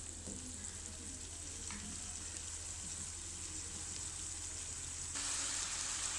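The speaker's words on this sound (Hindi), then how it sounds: "जी तो ये राइस मैंने ऐड कर दिए हैं इसमें और अब मैं इनको अच्छी तरह मिक्स कर लूँगी।" Rice sizzles and fries in a hot pan while being stirred, a steady hiss with a few soft scraping knocks and a brighter surge near the end, no voices.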